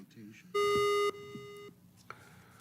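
An electronic beep sounds once, a loud and steady tone lasting about half a second. A quieter tone follows and holds for roughly another half second. The setting is a city council meeting, and faint talk continues in the background.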